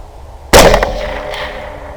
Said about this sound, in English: So I'm getting lined up here to take a shot.